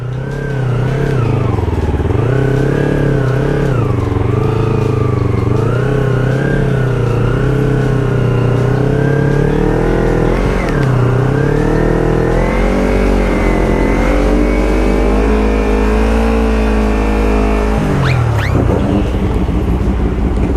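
A big R6 sport motorcycle engine drones loudly and close while riding, its pitch rising and falling with throttle over about twenty seconds, with wind buffeting the microphone and a brief dip near the end.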